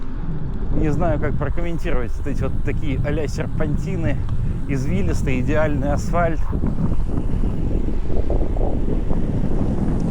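Heavy wind buffets the microphone of a cyclist on a winding asphalt road through Kashubia, a loud constant roar under someone talking throughout.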